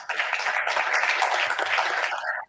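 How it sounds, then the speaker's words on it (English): Audience applause at the Deputy President's NAMPO Cape 2025 event for Professor Bongani Ndimba, a dense steady wash of clapping from a crowd that holds for a couple of seconds and then cuts off. "Let's give him a warm round of applause"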